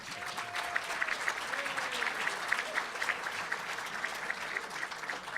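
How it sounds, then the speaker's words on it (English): An audience applauds State Senator Dan Biss at a pension reform event, a steady, fairly faint patter of many hands. A voice is heard briefly near the start. "Give him a round of applause."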